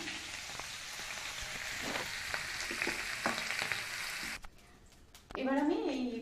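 Lentil bori dumplings frying in oil in a pan give a steady, close crackling sizzle with small pops, which stops abruptly near the end before a voice speaks.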